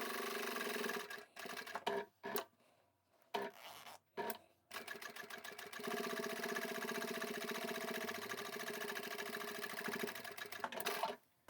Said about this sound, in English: Let's sew that closed.